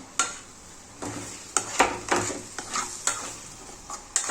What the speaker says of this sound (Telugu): ఇంకా ఆల్మోస్ట్ మొత్తం ఒక 5 మినిట్స్ వరకు ఎగ్ని మొత్తం కలుపుతూ ఉండాలి.